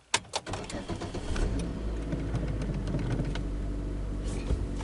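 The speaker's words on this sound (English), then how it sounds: "Alright, so now I'm going to start my car here" A car engine cranks with a few sharp clicks and catches, then settles into a steady low idle that stays close and fairly loud, with no talking.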